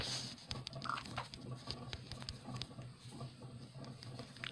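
Pig grunts and oinks from the Minecraft video game, Pocket Edition on hard mode, come in scattered bursts over steady low in-game background noise, with brief patter-like clicks between them.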